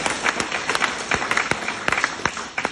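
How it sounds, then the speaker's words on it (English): Audience at a common law meeting applauding, a steady clapping texture punctuated by distinct sharp individual claps close to the microphone, carrying through the whole stretch without speech. "I'm holding the mic, but I want to clap as well."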